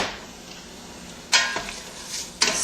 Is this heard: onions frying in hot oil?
yes